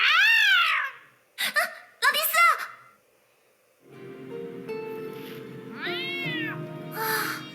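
A cat in the video game Honkai Impact 3rd meows repeatedly in loud, drawn-out cries, with short bursts between them and a low ambient hum underneath.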